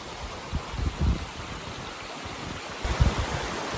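A mountain creek near a rural road flows with a steady broadband rush, a few louder splashy surges in between, close and continuous with no talking.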